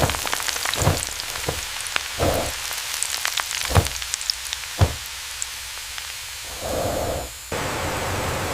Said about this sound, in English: Here in the frying zone, the larvae begin their transformation into bamboo worm reserve crisps